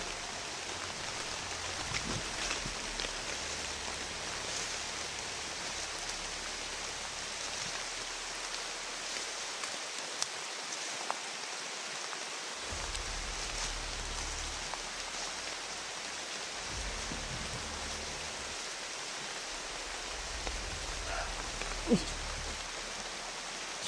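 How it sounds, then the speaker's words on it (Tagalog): Heavy rain pours down steadily and loudly for the whole stretch, a dense, even hiss with a rumbling low undertone that drops away briefly in the middle, and no one speaks. "Malakas talaga yung ulan po. Habang tumatagal, lalong lumalakas."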